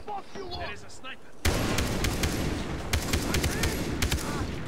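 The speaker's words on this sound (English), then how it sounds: "They're shooting us through like the foliage." Enemy gunfire in the Far Cry 3 video game, a sudden dense burst of rapid shots that keeps rattling on after a moment of talk, loud and sustained with individual cracks standing out.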